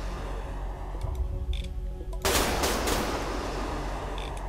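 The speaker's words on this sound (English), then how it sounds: "Time for a bombing run." Rapid gunfire and explosive bursts from a bombing run in the space strategy game StarDrive, a dense continuous barrage that swells sharply halfway through and stays loud to the end.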